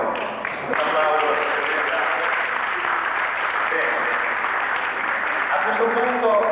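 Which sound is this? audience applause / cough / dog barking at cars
audience applause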